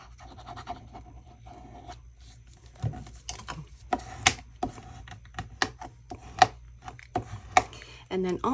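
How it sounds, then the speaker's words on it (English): Glued paper being burnished flat inside a handmade Halloween haunted-houses journal, heard as a series of short, close scraping rubs and taps that come in irregular bursts, louder toward the end, over a low steady hum. "I do like to burnish everything because it just takes that glue and it really spreads it out."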